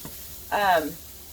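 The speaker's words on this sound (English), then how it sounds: "The onions are starting to caramelize, which is when they get browned." Onions caramelizing in a skillet give a short burst of sizzling that swells for about half a second and then fades, close and fairly loud, with no talk over it.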